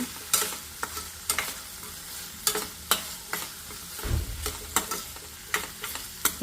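Chopped ivy gourd and onion fry in a pan, a steady low sizzle broken by repeated crisp spatula scrapes and stirs, close by and moderately quiet.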